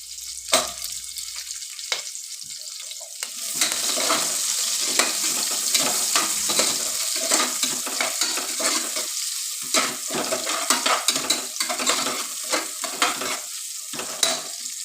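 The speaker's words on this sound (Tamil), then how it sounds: "ஒரு பெரிய சைஸ் வெங்காயத்தை இந்த மாதிரி கட் பண்ணி வச்சுருக்கேன் ஸ்லைஸ் ஸ்லைஸாக அதே இதில் ஆட் பண்ணிக்கலாம்" Sliced onions hit hot oil with browned ginger garlic for a pearl millet biriyani: after a quiet start, a loud close sizzle builds and continues, broken by scraping stirs and clinks of a spoon against the pan.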